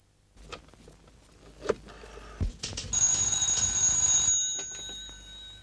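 A telephone rings with a bright, sustained electronic trill lasting over a second, preceded by a few soft knocks and clatters in a quiet room.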